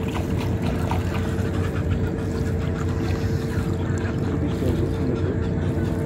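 A small boat's engine, a makinang tali outboard, runs steadily and close by on open water during a fishing trip, a continuous low droning hum with no breaks.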